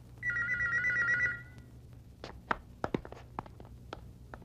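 A telephone bell rings once in a loud, buzzy trill lasting about a second. Scattered clicks and taps, like footsteps or handling noises, follow in a quieter room.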